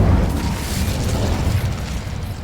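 A fiery blast from the Incendio spell in the video game Hogwarts Legacy: a heavy, roaring whoosh with deep booming bursts that swells early and holds steady for a couple of seconds, close and loud, with no talking.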